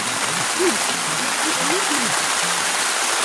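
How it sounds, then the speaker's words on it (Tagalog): Steady rain hisses loudly and evenly outdoors, with voices talking low beneath the downpour. "Kahit maulan. Tuloy pa rin. Kahit ulan."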